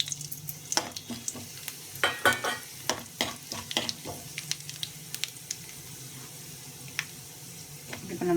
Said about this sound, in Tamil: இப்போ நம்ம கடுகு உளுந்த பருப்பு, சீரகம், காஞ்ச மிளகாய் இது 3 சேர்த்துடலாம்.